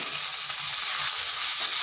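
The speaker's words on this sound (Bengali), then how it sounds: "মুগ ডালটাও একটু নেড়ে নিচ্ছি" Moong dal with ginger fries in a pan over low heat, giving a steady, close, bright sizzle while a spoon stirs it in soft repeated scrapes.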